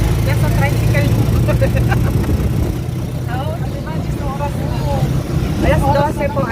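A small tricycle motorcycle engine runs steadily close by, its low rumble continuous while people talk over it, in Manila.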